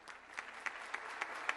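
Sparse applause at a 2020 fintech awards night comes as a few separate claps, spaced roughly evenly and sounding thin and somewhat distant.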